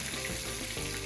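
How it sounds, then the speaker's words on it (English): Onions frying for a chicken, sweet potato and chickpea curry, giving a dense, continuous sizzle in the pan, close and loud throughout, with no voices. "Hear that lovely sizzle going on."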